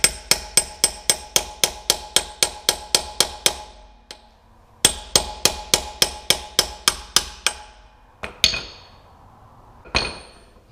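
Hammer blows drive a rear wheel bearing for a Golf into place through a 32 socket. Two rapid runs of a dozen-plus sharp metallic strikes are separated by a brief pause, and a few isolated knocks come at the end.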